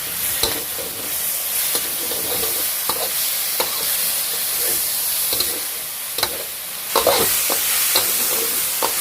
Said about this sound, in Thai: ผัดจนหมูสุกนะครับ